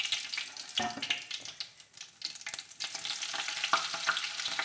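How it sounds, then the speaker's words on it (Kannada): Cumin seeds crackle and sizzle in hot cooking oil in a pan while making Chinese-style instant noodles: a steady, close frying hiss scattered with sharp pops, no voices. "ಎಣ್ಣೆ ಕಾಯಕ್ಕೆ ಇಟ್ಕೊಂಡೇನ್ರಿ ಜೀರಿಗೆ ಹಾಕ್ಕೊಳ್ಳೇನ್ರಿ ಜೀರಿಗೆ ಪಟ ಅನ್ಬೇಕ್ರಿ"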